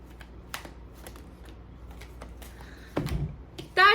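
Tarot cards shuffled by hand during a reading, a soft riffling patter through the quiet stretch with a few brief taps, then a louder burst of card handling near the end.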